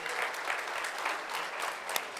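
A church congregation applauds in praise of the Lord during a Spanish-language sermon, a dense, steady wash of many hands clapping at moderate volume with no pause.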